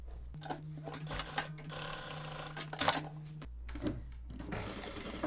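A sewing machine stitches a denim dress collar in a steady rapid mechanical whir, close and fairly quiet, pausing briefly midway and then resuming with clicks and handling noise, with no speech.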